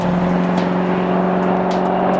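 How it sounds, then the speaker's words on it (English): A 2015 Chevrolet Corvette Z06 with a supercharged V8 roars at steady high revs, a loud, close, sustained engine drone with strong harmonic tones and no talking over it. "You get that roaring, supercharged V8 engine combined with some of the best technology out"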